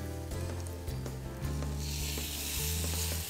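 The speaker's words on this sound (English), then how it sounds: "we'll get it into our nice hot Paderno pan over here" Mustard-seed-crusted lamb goes into a hot Paderno pan and sears with a loud, steady sizzle that swells into a brighter hiss as more meat hits the surface, with a few soft clicks.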